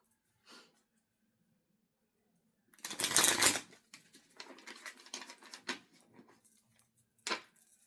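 Tarot cards are shuffled and pulled from a deck at close range, a loud riffling burst after a near-silent stretch, followed by softer scattered slides and taps and one last brief flick.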